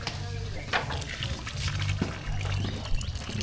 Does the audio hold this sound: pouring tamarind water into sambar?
yes